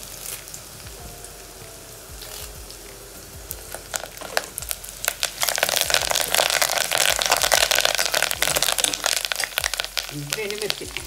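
Cumin, chana dal, urad dal and curry leaves fry in hot oil, a soft crackle that swells into a loud, dense sizzle and spitting partway through, close up.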